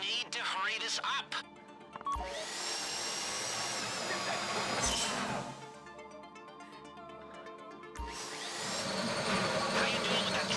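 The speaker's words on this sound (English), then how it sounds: "How you doing with that drill?" A power drill bores into a safety deposit box during a bank heist in GTA 5, whining in long sustained bursts that stop and restart, with a few sharp clanks and people talking over it.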